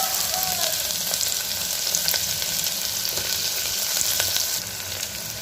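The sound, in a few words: onions frying in hot oil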